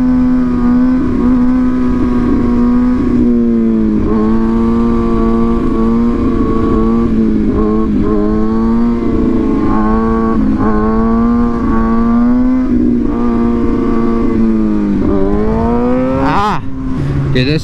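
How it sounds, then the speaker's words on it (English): A motorcycle with a Two Brothers aftermarket exhaust drones loudly and close, its deep throaty note rising and dipping through repeated revs and gear changes. "this Two Brothers exhaust sounds so good"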